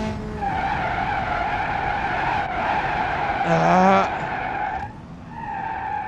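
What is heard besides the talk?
car skidding with locked wheels while braking, BeamNG.Drive video game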